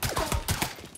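A quick rattle of several gunshots in Mafia III, about five sharp reports in under a second at moderate loudness, with no voices.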